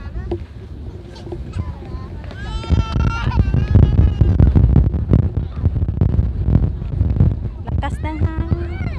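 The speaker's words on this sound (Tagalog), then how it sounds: "Lakas ng hangin." Strong wind buffets the microphone in a steady, loud roar at a beach in Kenting, with people talking over it throughout.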